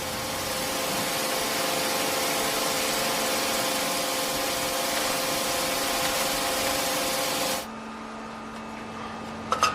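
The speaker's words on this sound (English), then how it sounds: "The billet goes into a machine which squeezes and squashes it even more and cuts it up into hundreds of very thin strips." A pencil factory machine squeezing wood billets and cutting them into thin strips runs with a loud, steady mechanical whir and hum, then drops abruptly to a quieter tonal drone, ending in a couple of sharp clicks.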